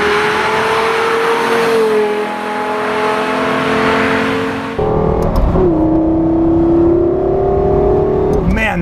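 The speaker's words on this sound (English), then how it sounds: "especially, that sound is coming out of a Lexus." The V12 engine of a Lexus LFA revs and pulls hard, with a loud rising and falling tone heard from inside the car. The sound breaks off sharply midway, then climbs again through another run.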